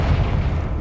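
Confringo explosive spell in Hogwarts Legacy, a loud, heavy booming blast with deep low rumble, brief and close.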